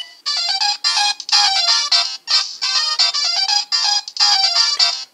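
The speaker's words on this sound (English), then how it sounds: "pressing the call button once to get the ringtone" A bright electronic ringtone from a Kamen Rider Den-O toy belt phone plays in short repeated bursts, a chirpy trilling melody with brief pauses, loud and close with no voices.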